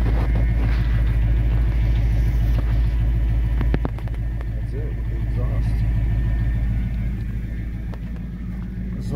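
A car's exhaust, with both pipes exiting at the rear, rumbles at idle in a deep, steady drone, close and continuous, with a slight drop in level partway through and faint clicks over it.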